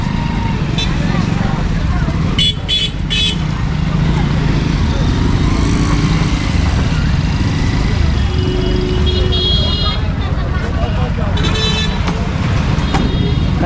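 A tempo truck rolls up through a narrow lane at a busy roadside fish market, engine rumbling close by with a few short horn toots, amid crowd chatter and people talking.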